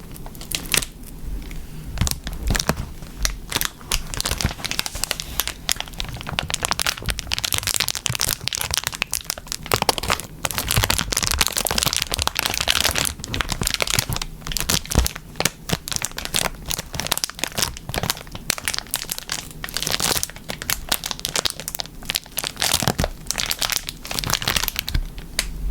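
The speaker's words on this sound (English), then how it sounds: "It has a very crinkly wrapper." A crinkly wrapper is handled right up close, giving a dense, continuous run of sharp crackles and crumpling rustles with no pauses.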